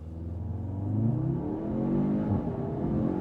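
A 2025 Audi S3 with 328 horsepower pulling hard in Dynamic Plus mode, its engine note rising steadily and loudly from inside the cabin, with a brief dip as it shifts before climbing again.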